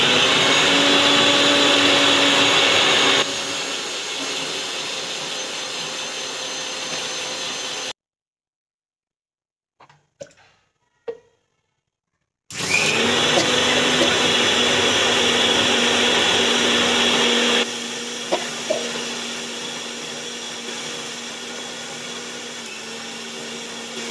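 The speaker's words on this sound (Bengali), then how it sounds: "আদা, রসুন, ধনে, জিরে, শুকনো লঙ্কার একটা কাঁচা লঙ্কা দিয়েছি, দিয়ে এখন বেটে নিচ্ছি মশলা" Electric grinder whirring loudly as it grinds ginger, garlic, coriander, cumin, dried chilli and a green chilli into paste, running steadily, stopping for a few seconds of near silence with small clicks, then starting again at full power.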